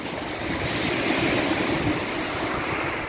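Waves from the Sea of Okhotsk break on the shore in a steady, moderately loud washing roar heard close and alone, with one slightly stronger surge midway.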